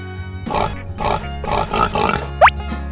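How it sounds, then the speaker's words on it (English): A pig grunts and oinks in a rapid series of close, loud snorts, about five rhythmic bursts, followed by a short high squeal. "Pig."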